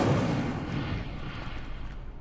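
In a Hogwarts wizarding video game, an Incendio fire spell goes off as a loud, rushing burst of flame that starts full and thick, then thins into a fading, crackling hiss over about two seconds.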